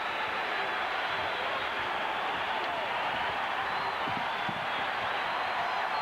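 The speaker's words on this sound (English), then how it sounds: "The crowd, the student body on its feet." A Kentucky basketball home crowd roars in a 1980 game against Auburn, the student body on its feet, a dense steady wall of cheering and noise from start to finish, with no break in the sound.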